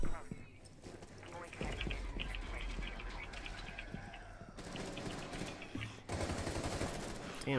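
Gunshots fired at a zombie in Rainbow Six Siege's Outbreak mode, scattered quick shots and bursts over ambient game noise with players talking throughout.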